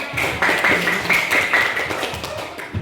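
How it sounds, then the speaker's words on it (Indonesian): A classroom group claps together in a brief burst of applause, close and lively, fading out after a couple of seconds. "tepuk tangan untuk semuanya"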